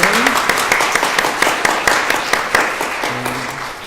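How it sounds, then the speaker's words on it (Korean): Church congregation clapping to welcome a guest pastor's wife during a founding-anniversary thanksgiving service, a dense run of claps with sharp individual hits standing out, fading slightly at the end. "그냥 우리 힘차게 박수로 어서오세요 환영합니다."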